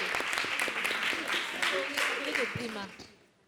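Audience on a summer holiday television show applauds in a dense burst, with voices chattering over the clapping before it tapers off into quiet.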